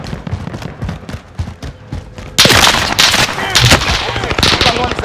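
Bursts of rapid gunfire in Call of Duty Warzone, scattered single shots at first, then a loud sustained barrage of automatic fire and impacts filling the second half.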